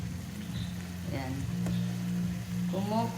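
Paksiw with ampalaya bubbling in a pot on the stove, a steady close sizzling, crackling boil running throughout while someone talks over it.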